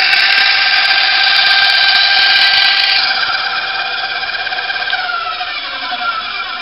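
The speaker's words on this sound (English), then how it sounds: "we're going to run another piece of wood straight through this saw" Battery-powered band saw running a piece of wood straight through, a loud, steady high whine with strong tonal harmonics, the pitch dipping slightly partway as the blade takes the cut, continuous and close with no talk.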